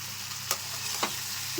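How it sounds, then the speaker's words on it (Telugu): Okra pieces frying in a pan over a high flame, a steady soft sizzle with two brief scraping stirs, close and alone with no voices. "వీటిని హై ఫ్లేమ్లోనే పెట్టి వేయించుకోవాలండి బెండకాయ ముక్కలు"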